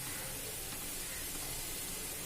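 Cabbage and onion pakoda sizzle in hot frying oil with a steady, dense, close hiss and no other sounds.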